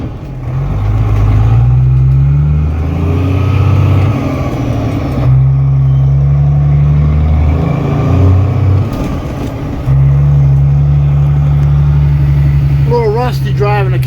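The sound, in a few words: 1991 Peterbilt cab-over truck driving through the gears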